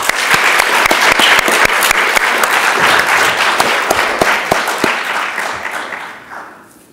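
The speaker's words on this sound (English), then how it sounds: "please also join me for a round of applause for Stephen Kinsella" Audience applause at a college debate on intellectual property, a dense, loud wash of many hands clapping that holds steady and then fades out toward the end.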